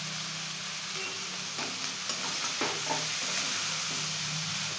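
Cooked biryani rice being stirred and fried in a pan, a soft steady sizzle with scraping strokes of the spoon rising in the middle, close and fairly quiet, no voices.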